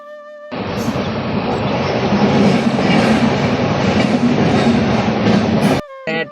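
Train passing close by a railway gate, a loud sustained rumble and clatter of wagons rolling past that starts after a warning tone and ends abruptly, with the gate's electronic alarm beeping again at the close.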